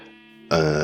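A sheep in the block-building survival game TerraFirmaCraft lets out a short, loud, harmonic bleat close by, preceded by a softer tonal sound.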